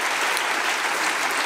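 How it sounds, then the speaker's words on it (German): An audience applauds at a talk about the 1943 Warsaw Ghetto Uprising, a dense, steady burst of clapping filling the short stretch. "Dafür können wir einen Applaus geben"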